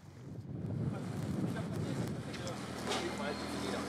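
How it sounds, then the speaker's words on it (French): Wind gusts across a harbor at a scallop auction, a steady, loud buffeting rush against the microphone that fills the whole clip with no clear talk on top. "Je ne sais pas si vous m'entendez, il y a du vent."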